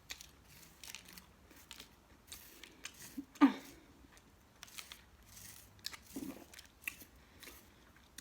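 Crunchy rolls with an overly crunchy coating being chewed close to the mic during a mukbang meal: soft, scattered crunches and bites, with one sharp, loud bite midway and quieter chewing around it.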